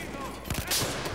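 Several sharp sniper gunshots crack in quick succession amid the din of a Battlefield 4 match on the Metro map, brief and close.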